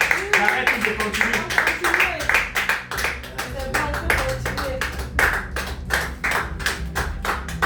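Audience at a church testimony gathering clapping to acclaim the Lord, a steady stream of sharp hand claps with bright repeated bursts, continuous through the clip with voices and music underneath.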